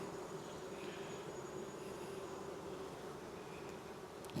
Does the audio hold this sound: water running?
no